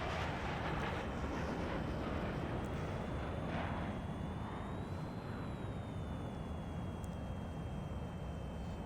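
Fighter jets roar during takeoff in Ace Combat 6, a loud sustained engine rush with a slowly shifting whine, no speech.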